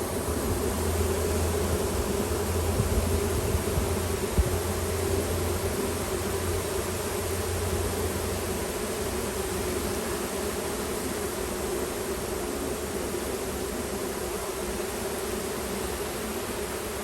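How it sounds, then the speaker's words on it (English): Honey bees at a newly settled hive produce a dense, steady buzzing hum that fills the whole stretch, close and continuous with no voices. "you should start to see bees sticking their butt up in the air like these ones here"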